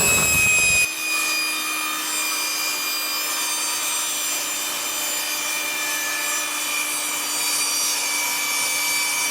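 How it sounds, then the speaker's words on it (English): A steady, continuous cutting drone with a faint whine runs throughout as laminate flooring pieces are sawn to fit, loud and close after a brief opening knock. "We're going to start banging it together, cutting the pieces as needed"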